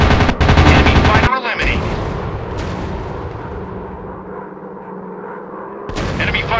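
Bursts of machine gun fire during a WW2 aerial dogfight in a mobile combat flight game, loud rapid rattling at the start and end with engine drone and explosions between.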